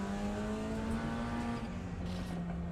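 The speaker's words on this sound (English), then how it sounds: "It's just getting around the track there to warm up the tow truck." A tow truck drives around the TT Assen race track to warm up, its engine a loud, continuous tonal drone that holds a steady pitch and dips slightly near the end.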